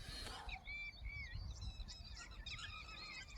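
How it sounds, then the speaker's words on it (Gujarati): Ducks and herons at a dam pond, with honking, goose-like bird calls repeating in short bursts for a few seconds over faint low background noise. "આમાં બગલા ને બતકું તરે પંખી અત્યારે પોતાનો ખોરાક લેવા આવ્યા હોય"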